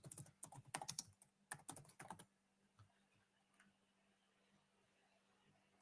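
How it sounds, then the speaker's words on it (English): Quick bursts of typing on a computer keyboard, close and crisp for about two seconds, then a few isolated key taps before quiet. "Let me just type in this player, Emory Jones."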